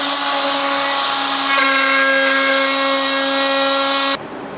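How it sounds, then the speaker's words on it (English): A router makes a shallow pass on a wooden circular tabletop, a loud steady high-pitched motor whine that holds evenly and then cuts off abruptly near the end. "I'm doing the shallowest pass you could possibly do with this router"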